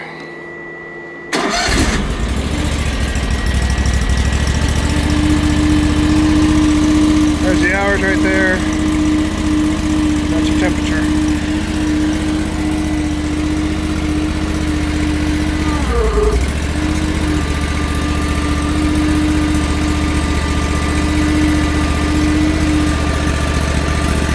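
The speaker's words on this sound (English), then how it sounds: "starting it, you have a battery switch that's on. You hear the fan fire up. You pull your choke" An AGT LRT23 mini skid steer cranks and its small engine catches, then idles loudly and steadily close by with a constant hum, its pitch dipping briefly partway through while someone talks over it.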